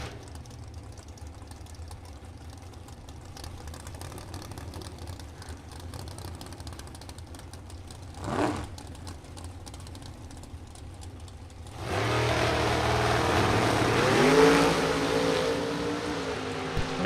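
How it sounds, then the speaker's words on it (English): A 1963 split-window Chevrolet Corvette drag racing at a drag strip: a long low idle is heard first, then the engine bursts into a loud, sustained roar for the last few seconds. "The 63 split-window Chevrolet Corvette."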